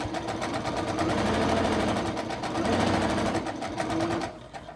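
A sewing machine runs steadily and close up, back stitching a fabric book sleeve or tablet cover with a continuous, fast whirring rattle that eases off near the end.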